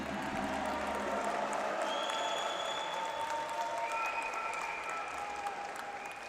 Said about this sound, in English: So big cheering from the crowd